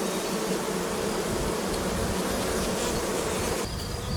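Honey bees at a château hive, a fairly dark hybrid strain, buzz in a dense, continuous swarm close up, with no voices over the steady drone.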